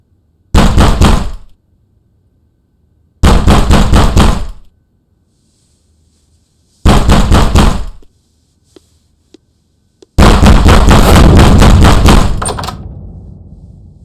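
Loud, close knocking on a door in four separate bursts of rapid raps with pauses between them, and no talking.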